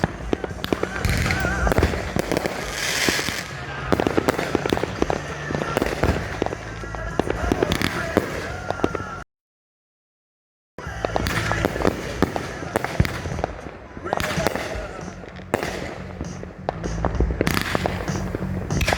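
A 24-shot 500 gram fireworks cake, Botanical Blast by AFW, fires a long run of loud crackling bursts and booms, pauses briefly in silence, then resumes with more dense explosive bursts, while people react with talk over the display.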